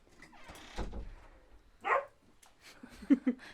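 A dog lets out a few short barks and whimpers at close range indoors, with brief pauses between them and soft background noise.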